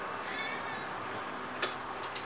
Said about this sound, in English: Look at the cat.